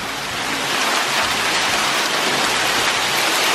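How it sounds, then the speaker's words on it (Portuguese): Hail mixed with heavy rain pounds steadily on a car and surrounding hard surfaces outdoors in the USA, a dense, continuous loud patter with no pauses. "Tá chovendo granizo ainda."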